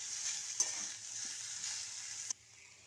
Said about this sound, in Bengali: এবার আমি গাজর, রাঙা আলু আর আমাদের গোল আলু এইগুলো সব দিয়ে আবার ভেজে নেব